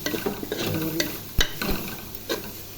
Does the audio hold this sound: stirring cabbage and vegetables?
yes